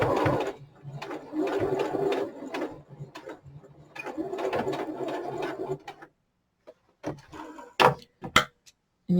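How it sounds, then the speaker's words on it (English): A sewing machine stitches through thick layers of a knit toque, with bursts of rapid mechanical whirring and clatter separated by pauses, followed by a few sharp clicks and knocks near the end. "Sewing through all these layers,"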